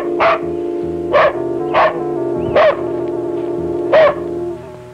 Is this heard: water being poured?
no